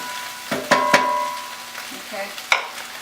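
Vegetables with cilantro cooking in a pan for spaghetti squash enchilada boats: close, sharp spatula scrapes and clacks over a light sizzle, in short bursts.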